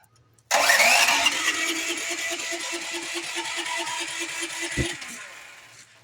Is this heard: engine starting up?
yes